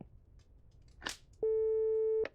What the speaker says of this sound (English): Just making sure I still had a dial tone.